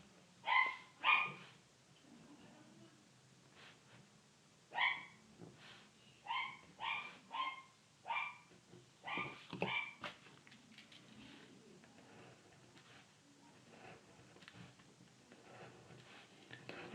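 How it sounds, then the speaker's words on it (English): A dog barks repeatedly somewhere off in the distance, a pair of barks then a run of about eight rhythmic barks, fading into quiet room tone with no talk. "Apologies about the dog barking."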